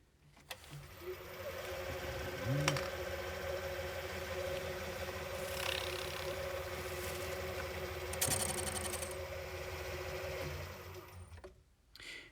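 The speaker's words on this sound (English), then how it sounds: "I'm going to take a little tiny skim off the front face here, just to get it level. So we start the lathe." A lathe takes a light skim off the front face of a piston ring, a steady low mechanical whir and hum at moderate distance with a faint scraping tick, running continuously without talk before stopping at the end.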